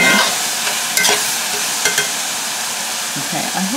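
A meatloaf mixture is stirred and turned in a pan over soft sizzling, with several sharp scraping clicks of the utensil against the pan, close and fairly loud.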